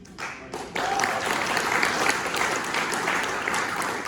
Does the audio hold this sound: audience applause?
yes